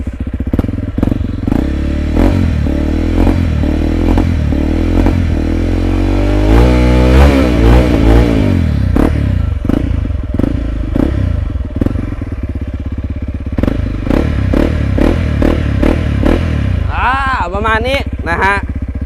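A 2021 Honda CRF300L motorcycle engine revs hard up close, with repeated sharp throttle blips, popping and clattering, rising and falling over a running idle, with voices talking over it.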